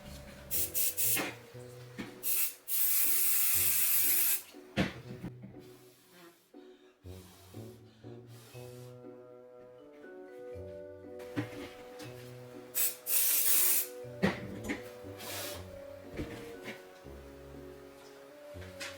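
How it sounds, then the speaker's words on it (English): Bursts of spray adhesive hiss out of an aerosol can onto an embroidery hoop in several short and long blasts, close by, amid handling noises and rustling. "I recommend spraying a bit of spray adhesive on your hoop."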